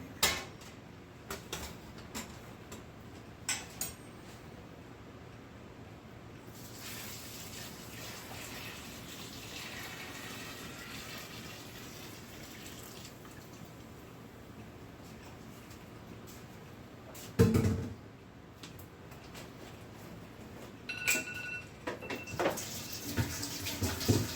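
Water gushes and splashes steadily into a bucket while making mead, with occasional clunks and knocks of plastic handling around it.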